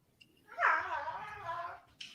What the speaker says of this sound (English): Oh, dogs are starting early, man. They're wrestling early.